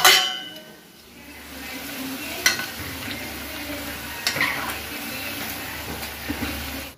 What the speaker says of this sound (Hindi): कल रात की कड़ी बची, इसको गर्म कर ली हूँ।